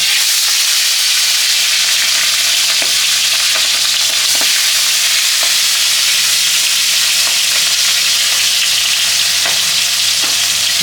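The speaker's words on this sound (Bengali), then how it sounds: "এটা ভেজে নিই সুন্দর করে। এখন তেল গরম হয়ে গেছে, কড়ার মধ্যে দিয়ে দেবো।" Fish head frying in hot oil in a wok, a steady loud sizzle with occasional pops and crackles running throughout, no voices.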